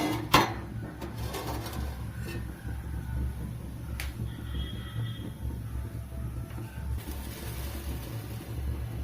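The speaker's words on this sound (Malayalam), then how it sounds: "മറ്റ് സാധനങ്ങളെല്ലാം ശരിയാക്കാൻ വേണ്ടി നമ്മൾ മറ്റൊരു പാത്രം തയ്യാറാക്കി അടുപ്പിലിട്ട് വെക്കുന്നു" A metal cooking pot, a wide uruli, is set down on a kitchen stove: one sharp clank near the start, then faint knocks and low background rumble.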